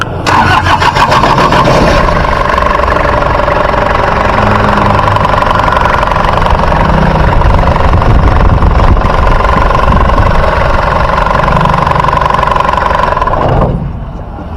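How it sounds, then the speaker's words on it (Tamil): A Toyota Qualis engine cranks and catches, then settles into a loud, steady idle heard up close for over ten seconds before cutting off. "வண்டியோட இன்ஜின் சவுண்டில் பார்த்தீங்கன்னா எக்ஸ்ட்ராவாக நாய்ஸ் எதுவுமே வரல"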